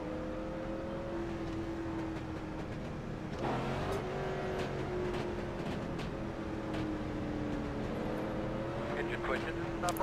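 Late model race cars idling and revving together at a race start in iRacing, a continuous engine drone with steady pitch and a few swells as cars move, with a voice talking over it.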